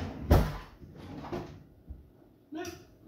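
A kitchen drawer pulled open and rummaged through in a home kitchen while hunting for a metal food-processor blade, giving a sharp near thud followed by lighter clatters and a final knock.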